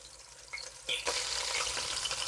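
Beef short ribs browning in a hot pan, a close, steady frying sizzle that swells louder partway through as the meat is turned, no talk.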